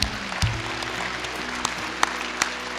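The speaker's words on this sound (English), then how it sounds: "So let's give them a round of applause." An audience at a youth club event applauds staff members, a soft steady wash of clapping with a few sharper individual claps standing out near the end.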